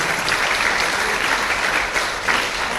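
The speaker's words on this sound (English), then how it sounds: "please continue your big round of applause for every single person who has made this possible" Audience at a hospital's 15-year anniversary celebration gives a loud, continuous round of applause, many hands clapping steadily throughout.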